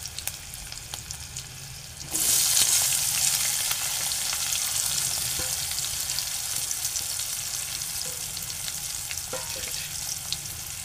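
Turmeric hits a hot pan, bursting into a sudden loud sizzle after a quieter start, then keeps hissing steadily with faint stirring clinks.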